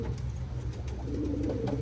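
Racing pigeons coo steadily in a loft just after returning from a race, low throaty calls layered continuously and close by, with no talking.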